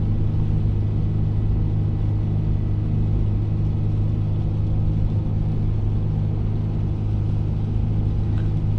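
Manual Toyota 4Runner in second gear at around 3,000 RPM on a snowy mountain pass, heard as a steady, loud low engine and road rumble inside the cab with no speech.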